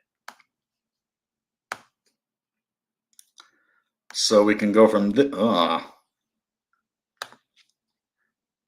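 Sparse, crisp computer mouse clicks sound one at a time at uneven intervals in a quiet room, with a short stretch of someone talking in the middle.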